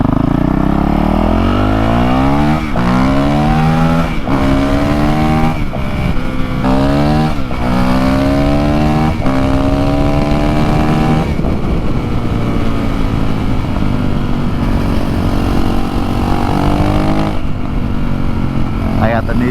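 A Honda CRF450L set up as a supermoto, fitted with new sprockets and chain, revs and shifts through the gears with rising engine pitch and short breaks between gears, loud and close throughout with no talking.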